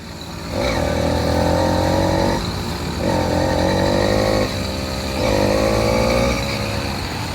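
Small engine of a motorized bicycle running on a long road ride, buzzing loudly in three rising surges with brief dips between, close and without talk.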